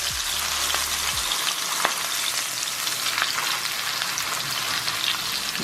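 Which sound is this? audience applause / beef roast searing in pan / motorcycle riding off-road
beef roast searing in pan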